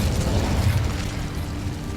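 A fire spell cast in the video game Hogwarts Legacy: a steady, dense low roar with a rumbling burst quality, sustained throughout rather than a single crack.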